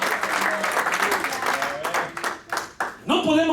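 Congregation applauding at a nighttime church service, dense steady clapping that fills most of the stretch before breaking into a few uneven bursts, with a preacher's voice rising over it near the end.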